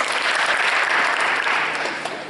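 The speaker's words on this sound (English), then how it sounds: "Give Justin a round of applause." At a 2020 football awards ceremony, the audience gives Justin a round of applause. The clapping is close, dense and sustained, then eases off slightly at the end.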